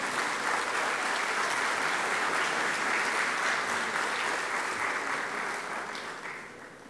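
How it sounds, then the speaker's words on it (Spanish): Sustained audience applause at an academic congress on accreditation and competency evaluation, a dense, steady clapping from a large crowd that gradually tapers off toward the end. "Aplausos para ella, por favor."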